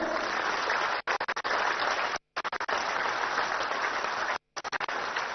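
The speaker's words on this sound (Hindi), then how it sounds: "आप सबके लिए तालियां" Applause from a crowd honoring officials at a Delhi news event, sustained dense clapping broken by brief pauses and scattered final claps before resuming, moderately loud and steady with no talk.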